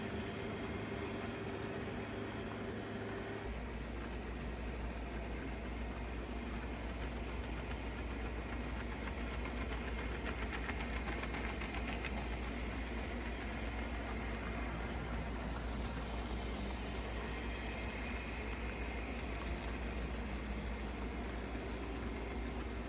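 A Bachmann Spectrum 0-6-0 saddle tank HO scale model logging locomotive runs with a light load, giving a faint continuous motor hum and mechanical whir that shifts slightly partway through, with no talking.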